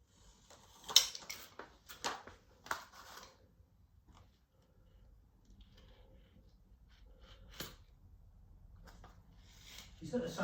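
A blade scores and cuts through 9 x 3 inch Amtico LVT herringbone vinyl flooring while it is scribed to a wall, giving a few short scraping strokes early on and scattered quieter handling sounds afterward, with faint voices in the background.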